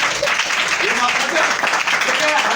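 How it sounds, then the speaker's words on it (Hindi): A church congregation applauds, a steady dense clapping that holds for the whole stretch, with a preacher's voice speaking over it. "ये सुनकर ये तालियां बजाएगा"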